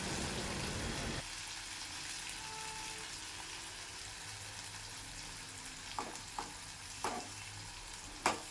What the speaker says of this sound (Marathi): आपण आता तेलामध्ये परतून घेऊ